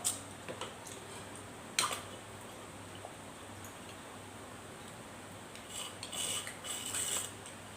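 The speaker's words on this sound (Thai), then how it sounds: "เสียงดูดหลอด" Faint slurping and airy sucking through a straw from a young coconut, a short burst early on and a longer gurgling pull near the end, in a quiet room.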